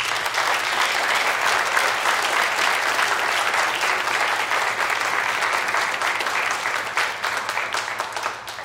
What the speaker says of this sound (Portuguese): Mais uma salva de palmas, por favor.